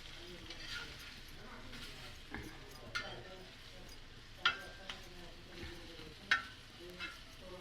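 Pomfret fish frying in oil in a pan, giving a low, steady sizzle with several sharp clinks and scrapes as the fish is turned, under quiet background talk.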